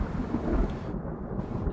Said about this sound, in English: It is just a absolutely ground-shaking roll of thunder.